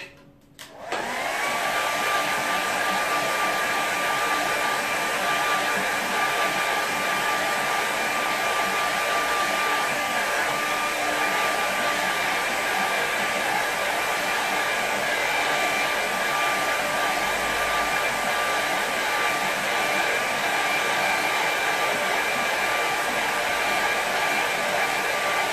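A hair dryer switches on and blows steadily at close range to dry a watercolour painting, a loud constant whirring hiss with a thin motor whine that holds unchanged throughout.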